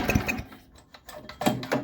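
A Craftsman snowblower engine cranks over with short mechanical rattling pulls and clattering bursts at close range, stopping briefly between attempts, without catching into a steady run.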